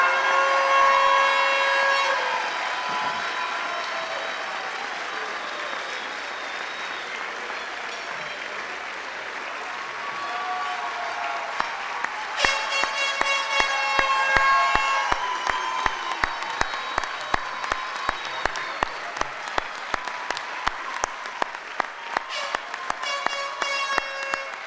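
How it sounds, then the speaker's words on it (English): Commencement audience at the 2013 California Maritime graduation applauding the graduates, a broad crowd roar that thickens into dense, sharp clapping over the second half, with some whistles and cheers. "One more round of applause for all of our graduates."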